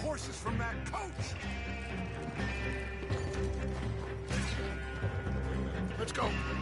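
Horses with a stagecoach in the video game Red Dead Redemption 2: clopping hooves and rattling coach mechanisms mixed with scattered bangs, a busy, fairly loud scene under other game sounds.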